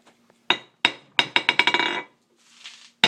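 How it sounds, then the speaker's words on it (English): A larger hammer strikes the face of a small, chunky Vulcan anvil in a quick run of about ten ringing blows, the hits speeding up and then stopping, each leaving a bright metallic ring, followed by a softer scrape and one final strike. "Let's see how it does with a larger hammer."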